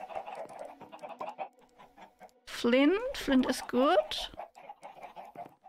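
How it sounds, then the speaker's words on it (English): Chickens in the Minecraft video game cluck and squawk in a short burst midway, fairly loud over a quiet game background, while a person talks briefly. "chickens."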